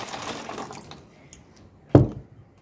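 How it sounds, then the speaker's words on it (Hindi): Water is poured into a bottle: a soft, splashy rush of filling early on, then a single louder gurgling splash near the end before it trails off quietly. "बॉटल में पानी डाल के दिखाती हूँ।"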